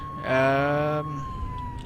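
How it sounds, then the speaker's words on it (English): A loud wailing emergency vehicle siren from the police and rescue game Flashing Lights, a harmonic tone sounding for about a second and then cutting off, leaving quieter engine and ambient game noise. "keep our lights on, but turn the siren off."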